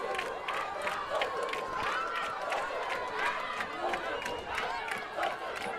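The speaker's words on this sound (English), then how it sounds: "unbelievable to see the Cambridge crowd cheering and celebrating" Cambridge rugby crowd at a sports festival cheering and celebrating, a continuous mid-level roar of voices and shouts with rising whoops, heard from a moderate distance.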